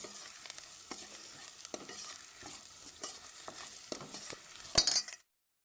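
Cumin seeds and spices roasting in hot oil in a pan for Goan daal, a steady close sizzle with scattered clinks and stirring scrapes and a louder burst of crackle near the end before it cuts off.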